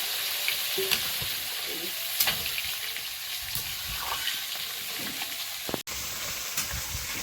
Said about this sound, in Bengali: এবারে নারকেলের দুধটা দেবো